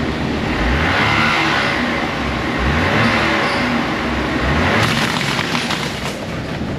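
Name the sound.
Cadillac engine running with worn belt and tensioner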